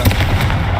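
A short booming fire-spell blast, the Confringo curse cast in Hogwarts Legacy, with a dense low rumble and crackling burst that fills the whole moment loudly.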